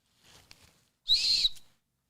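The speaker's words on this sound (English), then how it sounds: "Oh, and they have a whistle on the thing." A small plastic safety whistle attached to a hiking backpack gives a short, shrill blast after a soft bit of handling noise, close and fairly loud, alone.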